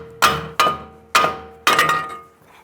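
Metal hammer tapping down the front strut and spring assembly of a 2000-2007 Ford Taurus during removal: four sharp, ringing metallic strikes, close and loud, with a short decay after each and no talk.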